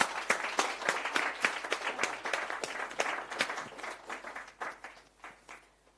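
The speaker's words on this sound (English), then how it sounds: "Let's give Sarah a round of applause." Conference audience applauding at a London roadshow event, a steady wash of many hands clapping that swells early and gradually thins out over six seconds, with no talking over it.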